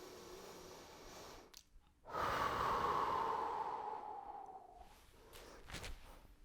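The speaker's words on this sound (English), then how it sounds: "A couple deep breaths here." Deep breaths during the rest at the end of a home full-body flow workout: a long, close, audible exhale that fades out gradually, then a quieter breath follows, with no talking.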